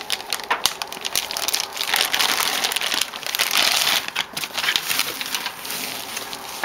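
Packing tape is cut and an Elecraft KX3 radio box is opened up close, with loud crinkling and rustling of cardboard and wrapping, and no speech.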